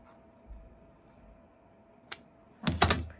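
Scissors trim the curved edge of a shoe made from masking tape, with a soft snip and then a quick cluster of sharper cuts close by after a quiet start.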